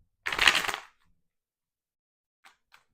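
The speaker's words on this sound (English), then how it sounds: "So I'm going to get a few more shuffles." A single brisk riffle of a card deck shuffling, close and crisp, followed by silence and two faint soft taps.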